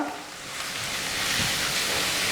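Crushed shallots sizzle steadily in a pan as they are sautéed for a spicy chicken fry, a close, continuous hiss with no talking.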